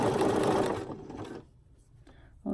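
Sewing machine zigzag stitching elastic into a swimsuit seam, a steady loud motor whir for about a second that fades away, followed by a short quiet gap and then another brief burst of stitching.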